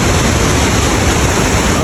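Rushing rapids at Itanda Falls in Uganda roar as a dense, steady wash of whitewater, loud and unbroken with no voices.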